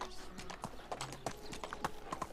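A horse trots along in the Medieval Dynasty game, its hooves clip-clopping in an uneven, quick rhythm. The steps sound moderately close, with scattered sharp knocks over a low background.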